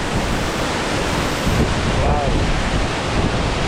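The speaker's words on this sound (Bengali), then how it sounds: "দেখেন ঝর্ণা থেকে জল উড়ে উড়ে যাচ্ছে" Rupse waterfall in Mustang, Nepal, roars with spraying water heard up close as a steady, loud rush of broadband noise with wind buffeting the microphone.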